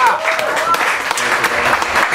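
Audience applause for a saxophonist at a New Orleans-style band concert, steady dense clapping across the whole moment with a few brief vocal sounds mixed in.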